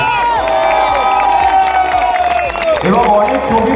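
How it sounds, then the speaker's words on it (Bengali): A crowd at a Kolkata film shoot for the movie Mirza claps and cheers loudly for the team, with shouts and whoops over steady applause, briefly dipping before rising again. "টিমের জন্য একটা জোরে হাততালি হয়েছে।"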